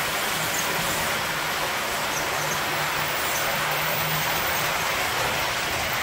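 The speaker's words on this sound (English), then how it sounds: "And the train goes up there." Small tourist train at a visitor center in Benson, Arizona, rolling along its tracks, giving a steady, continuous mechanical rumble and hum with a faint low drone, running alone without talk for the whole stretch.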